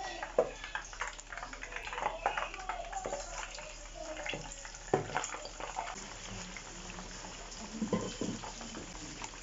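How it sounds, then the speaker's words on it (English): Turkey wings frying in hot oil, a steady crackling sizzle with scattered pops and bubbling that goes on throughout, fairly close and moderately loud, with no talking. "So we are going to let that fry to golden brown."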